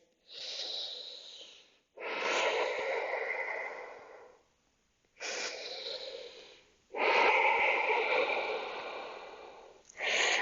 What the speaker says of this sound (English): 3 big breaths here.